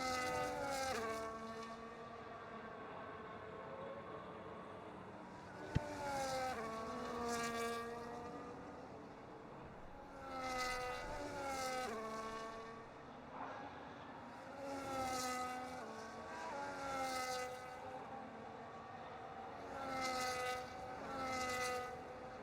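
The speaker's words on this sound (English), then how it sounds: "The formation lap is underway." Race cars in a sim racing video game roll through a formation lap in an Australian league race, several engines droning and revving in overlapping rising and falling tones, steady and moderately loud with no talk.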